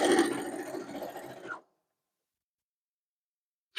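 A sewing machine stitching a quilt, a steady close whir lasting about a second and a half, then abrupt silence before a brief restart at the end.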